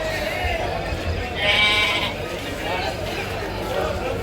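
Sheep bleat at the Suttur fair's agricultural livestock show, among breeds such as Bandur and Kenguri; one clear bleat rises midway over steady crowd chatter and voices nearby.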